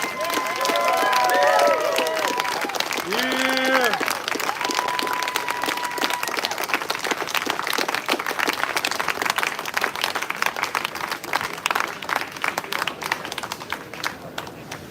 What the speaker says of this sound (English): I think that we should give him another round of applause.